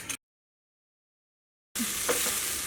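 Okra (ladies' finger) sautéing in coconut oil for a Kerala-style curry: a short burst of sound, a long stretch of total silence, then a soft, steady sizzle in the pan.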